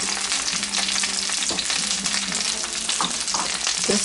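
Bacon frying in a pan makes a dense, continuous close-up sizzle with faint pops and crackles and no voices.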